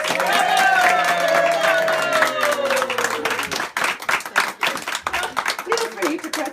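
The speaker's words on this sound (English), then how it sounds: "And a round of applause." Birthday party guests cheering and clapping for Sheila, a voice holding a drawn-out cheer over clapping at first, then looser, uneven claps with talk and laughter mixed in, close and lively.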